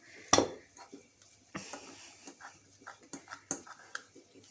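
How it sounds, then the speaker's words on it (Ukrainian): Clinks and scrapes of a fork against a bowl, irregular and close, with soft mashing taps of homemade cheese and dill for khachapuri following a sharp metallic clack at the start. "І вилочкою це все. Переминаємо."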